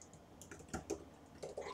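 Quick bursts of computer keyboard typing, close and fairly quiet, with uneven clusters of key clicks and short pauses between them, no voices.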